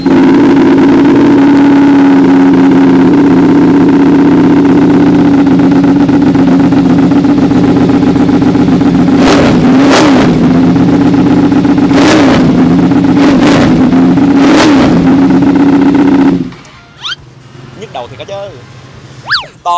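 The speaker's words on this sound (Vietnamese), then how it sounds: "mình sẽ đề máy lại một lần nữa cho mọi người nghe tiếng bô Ultim GB 1 trên con Ducati Panigale 959" A Ducati Panigale 959 engine fitted with an Ultim GB1 exhaust idles loud and close with a deep steady rumble, blipped by three or four sharp revs before it shuts off, leaving faint background sounds.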